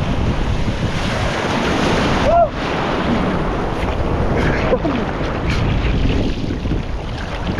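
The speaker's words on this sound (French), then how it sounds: "Eh, c'est des vraies vagues là. Là on peut surfer." Big ocean waves breaking on the beach with a continuous heavy roar of surf and strong wind buffeting the microphone, loud and close, with a brief voice partway through.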